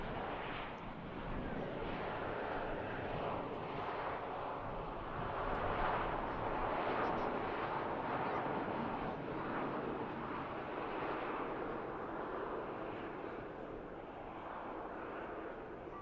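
A steady, loud roar of an Airbus A321 departing Manchester Airport, sustained broadband jet rumble holding throughout from a moderate distance.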